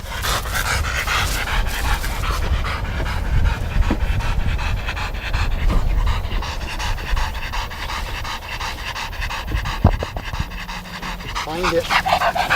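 Drug detection dog panting rapidly while sniffing during training, heavy rhythmic breaths close by and continuous, with a person talking over it.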